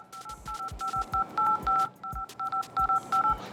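A Samsung One UI phone dialer keypad plays a series of short two-tone dial beeps in an uneven rhythm, each press a clean electronic chirp with soft taps underneath.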